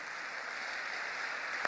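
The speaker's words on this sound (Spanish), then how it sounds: "Ahí yo daría un aplauso grandote al Señor." A congregation in church applauds in a brief, soft, even wash of clapping that sounds distant, ending with a sudden louder clap.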